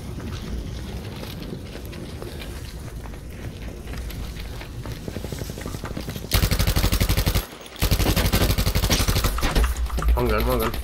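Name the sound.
gunfire from a gun in a video game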